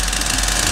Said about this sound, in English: Pull the starter rope repeatedly and quickly until the engine fires.